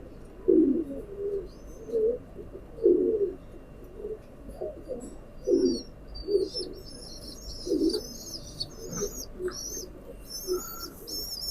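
Batera pigeons, a well-matched pair, cooing in a series of low throaty coos close by, repeating roughly every second, with faint chirps from other birds in the background.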